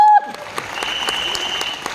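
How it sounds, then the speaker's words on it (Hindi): Audience applause during a speech at a live event, a dense wash of clapping starting abruptly after a brief voice and continuing steadily from a hall full of listeners. "इसमें क्या ताली बजाने वाली बात है भाई?"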